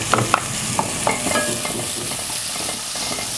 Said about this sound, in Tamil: எண்ணெய் நல்லா காஞ்சதும் இதில் ஒரு பெரிய வெங்காயம் பொடிசாக நறுக்கி வச்சுருக்கேன்.